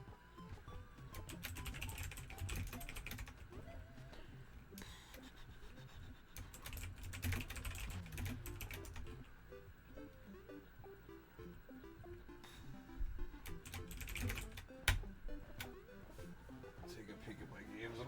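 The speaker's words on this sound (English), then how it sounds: "I'm just gonna type some games that I'm thinking about right now" Keyboard typing clatters steadily in close bursts throughout, with a person talking over it at times during a speedrun stream.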